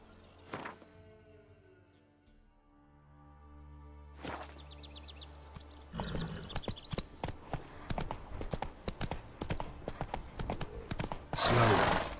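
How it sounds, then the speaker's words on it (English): Horse hooves clip-clop steadily in Witcher 3, a run of close, loud, regular footfalls with an occasional whinny and a sharper burst near the end, no talking. "Whoa there, Roach."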